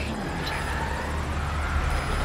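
A support helicopter in Metal Gear Solid V: Ground Zeroes hovers at a landing zone, its steady rotor and engine drone continuous and fairly loud, with a faint high whine and no speech.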